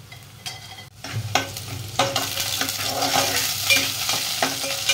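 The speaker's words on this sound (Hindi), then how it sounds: "फिर इसको हिलाते रहना है" Ridge gourd curry sizzling in a hot pan on a home stove, with a metal spoon stirring and scraping through it: a steady fry hiss under repeated clinks and scrapes, close and fairly loud, with no talk.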